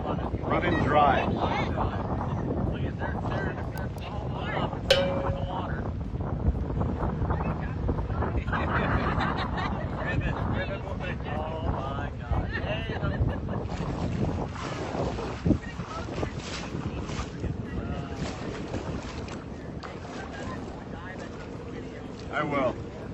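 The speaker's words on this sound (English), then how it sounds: "Look at that engine." A boat engine runs continuously amid strong wind buffeting the microphone out on the water, a steady rough drone lasting throughout, with people talking and exclaiming over it.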